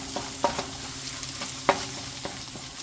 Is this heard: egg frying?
yes